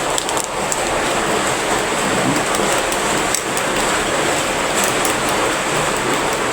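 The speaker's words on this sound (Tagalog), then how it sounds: "Dito sa amin malakas ang ulan tapos mahangin pa." Heavy rain driven by wind pours down in a steady, dense hiss with faint scattered ticks and taps, continuous throughout and without voices.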